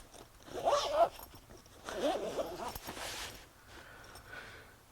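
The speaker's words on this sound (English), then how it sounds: "just go back to that middle zipper, zip it all up" A zipper on a motorcycle tank bag is pulled closed in several quick, close zipping strokes, each a short raspy burst, with soft handling noises between them.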